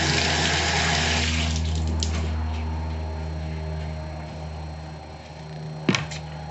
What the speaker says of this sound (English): I'm gonna wash this pepper.